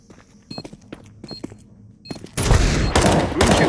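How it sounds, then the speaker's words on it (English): Gunfire in the Counter-Strike game on the Ancient map, with scattered clicks and light footstep-like sounds giving way to a loud, sustained burst of rapid shots in the final second and a half. "Bushu finding another shot onto He-Man"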